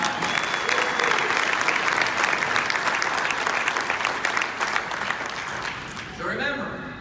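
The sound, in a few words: audience applause for Matt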